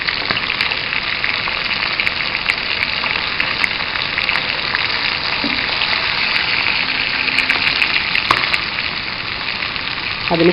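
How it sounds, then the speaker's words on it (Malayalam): Chicken legs fry in oil in a pan, a dense, steady sizzle and crackle that carries on throughout. "ലോ ഫ്ലെയിമിലിട്ട് ചിക്കൻ നന്നായി സോഫ്റ്റായി വറുത്തെടുക്കുകയാണ് വേണ്ടത്"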